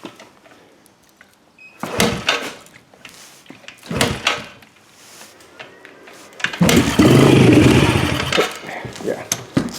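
A Yamaha TTR 110 dirt bike, long left sitting, is bump-started: a few short thumps and clatters, then the engine sputters and catches with a rough, loud run of a couple of seconds. Someone speaks briefly at the start.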